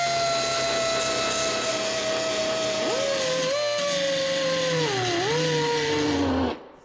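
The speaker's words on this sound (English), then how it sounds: "You can see just running the sander at low speed, it wants to soften that up" A sander runs at low speed against a bumper, a steady close motor hum whose pitch sags and wavers under load before it cuts off abruptly.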